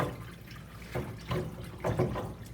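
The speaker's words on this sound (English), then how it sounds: "So I'm pouring off this salty liquid because I want to stop salting my peanuts." Salty cooking water poured off a big pot of boiled peanuts, a soft close splashing and gurgling stream with a few louder surges as the pot tips, no talking.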